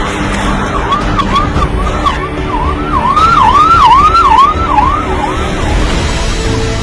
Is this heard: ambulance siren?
yes